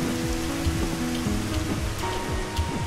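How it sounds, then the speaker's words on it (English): Steady heavy rain pours down in the video game Dig or Die, a dense continuous hiss of drops with faint low rumbling and occasional patters, with no voices. "I think it's really raining here."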